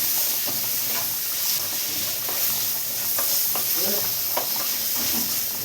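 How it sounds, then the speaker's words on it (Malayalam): Green tomatoes and salt get stirred in a hot pan for a stir-fry, with steady sizzling hiss and scattered soft scrapes and taps of a spoon against the pan, close and continuous. "എല്ലാം കൂടെ ഒന്ന് മിക്സ് ചെയ്ത് കൊടുക്കാം"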